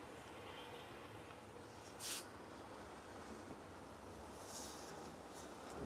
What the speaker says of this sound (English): you hear the noise of winds